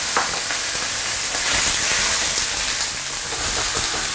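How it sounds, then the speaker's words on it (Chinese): Garlic, ginger, chili, corn, lotus root and potato stir-frying in a hot wok, a steady loud sizzle and hiss with scraping stir strokes, no voices. "再下入我们的辅料，这些玉米啊、莲藕啊和土豆。"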